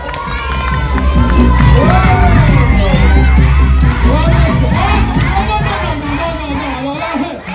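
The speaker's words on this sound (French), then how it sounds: "Mesdames, messieurs, on peut applaudir, non?" Children in an audience at a show about water guardians cheer, shout and applaud loudly and continuously, a dense crowd roar with excited young voices throughout, under an adult presenter's occasional speech.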